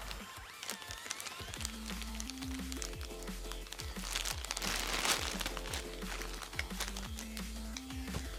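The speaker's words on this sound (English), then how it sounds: "Let's just open it. The scissors right here." Scissors open the packaging of a Banpresto SCulture Big Zoukeio Zoro figure. Close, crisp crinkling and rapid snipping clicks of plastic and packing material come in irregular bursts with no talk.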